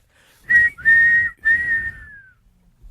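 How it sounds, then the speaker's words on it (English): Three sharp, shrill whistle blasts in quick succession. The last is longer and drops slightly in pitch at the end. "Is it blow the whistle? Are you blowing the whistle?"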